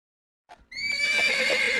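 A horse gives a loud, close whinny after a brief snort, its shrill neigh ringing out and holding steady with no one talking.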